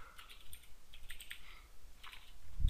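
Quick bursts of typing on a computer keyboard while coding an HTML5 page, light clicky keystrokes in uneven clusters, close and fairly soft, with no talking.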